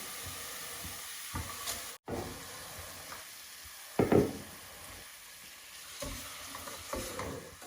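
Rice stirred in a pan with fried onions, a quiet sizzle underneath with occasional scraping and clinking of the spoon against the pan, close and fairly faint with no talk.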